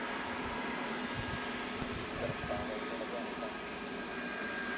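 A Jet2 aircraft at Leeds Bradford Airport gives off a steady, moderately distant engine rumble, with a voice briefly heard partway through.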